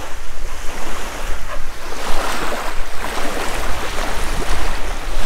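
Ocean waves breaking on a beach in strong wind, a loud continuous roar of surf with rushing gusts buffeting the microphone throughout, no voices.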